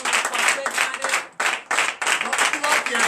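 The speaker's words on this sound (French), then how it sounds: "Donc je vous demande d'applaudir." A church congregation at a Sunday worship service in Benin applauds in loud bursts of clapping, briefly pausing and then resuming, with a voice heard over the noise.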